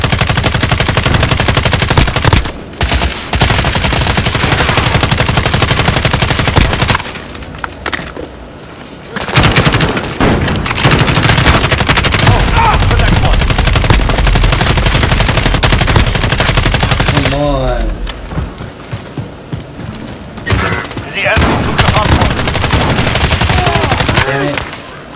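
Dense, loud automatic gunfire and explosions in the video game Call of Duty Modern Warfare, nearly continuous bursts with brief lulls, a speaking voice occasionally audible beneath the shooting.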